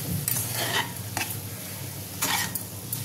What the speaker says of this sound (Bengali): একটু নাড়বো,